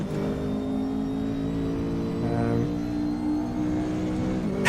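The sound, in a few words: McLaren 570S GT4 race car engine in RaceRoom video game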